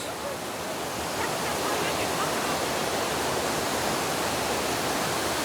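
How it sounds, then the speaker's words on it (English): The waterfall at Phnom Kulen, Cambodia, roars as a steady, dense wash of falling water close by, with faint voices of visitors mixed into the noise. "So let's go to the waterfall."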